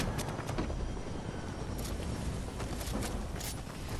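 A helicopter in a battle royale shooter game drones at a distance as a steady, moderately loud rotor and engine hum, with scattered sharp in-game impacts and clicks over it.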